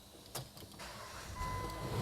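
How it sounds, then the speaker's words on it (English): A car engine cranks and catches with a mid-pitched start, then settles into a steady idle with a faint whine, close by, as an AC sanitizer tool is hooked up to the vehicle. "We'll then start the car."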